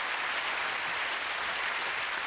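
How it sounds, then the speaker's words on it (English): Studio audience applause at a TV game show, a dense steady wash of clapping from many hands, fairly distant and continuous throughout. "Give them a nice round of applause"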